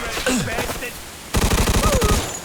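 A rapid automatic burst of gunfire in Mafia II: Definitive Edition, loud and close, rattling in quick regular pulses after a short stretch of other game sounds.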